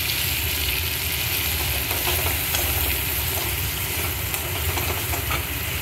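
Masala spices fry in oil in a pan for stuffed pointed gourd, giving a steady, loud, continuous sizzle with no pauses or talking.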